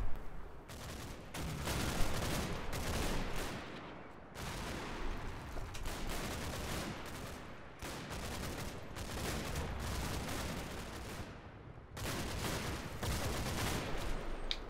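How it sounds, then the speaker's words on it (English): Mortar rounds and gunfire in the wargame Combat Mission: Battle for Normandy, loud dense bursts of blasts and rattling fire in long sustained volleys separated by brief gaps, with no talk. "we're continuing to drop mortar rounds to hopefully eradicate any resistance over there"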